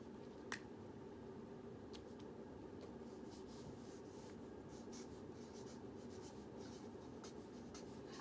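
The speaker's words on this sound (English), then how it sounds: "Have to write that written statement." A pen writes on paper in soft, continuous scratching strokes, quiet and close, over a steady background hum, with a single faint tap near the start and no voice.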